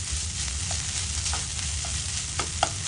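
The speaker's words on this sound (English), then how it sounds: "Let squids get cooked on low medium flame for 5 minutes." Squid and prawns cooking on a low-medium gas flame give a continuous, even sizzle and fry, with a few soft clicks and pops throughout.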